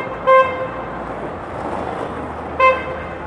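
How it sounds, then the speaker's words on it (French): A car horn on a road in traffic sounds in two short toots about two seconds apart, loud and close, over a low steady road rumble. "Il klaxonne lui."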